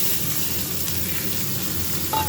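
Onions frying in hot, darkened oil with a bay leaf in the pan, a loud close continuous sizzle holding steady throughout, with no voices.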